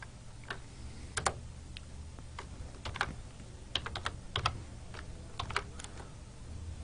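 Keys on a computer keyboard are struck in scattered clicks and short clusters, close but fairly quiet, over a low steady room hum with no voice.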